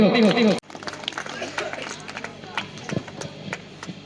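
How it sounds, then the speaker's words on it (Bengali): Audience applause at a folk festival at Shilpagram, Giletala: after a voice speaks, a steady patter of clapping from a crowd follows, sustained and moderately loud, with a few sharper claps standing out. "একটু জোরে করতালি হোক।"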